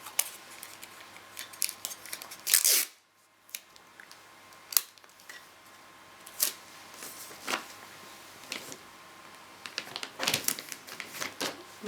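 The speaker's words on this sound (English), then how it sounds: "and we just need a little more tape" While a Christmas present is gift wrapped, sticky tape is pulled off the roll in sharp ripping bursts and snipped with a few crisp cuts, separated by quiet pauses and soft paper rustles.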